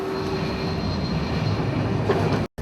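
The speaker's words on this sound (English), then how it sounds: "This is the train." A train rumbles at Gare de Lyon station in Paris, a loud, steady rolling drone of wagons and wheels with a faint squeal, close by, ending abruptly; no one speaks.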